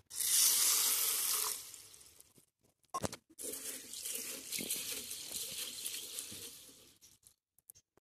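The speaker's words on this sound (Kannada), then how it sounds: "ಹುರುಳಿಯನ್ನು ಸ್ವಲ್ಪ ತೊಳೆಯುವ" Horse gram being washed in water, a loud splashing rush at first that fades, then softer sloshing and rinsing with a few clatters, no voices.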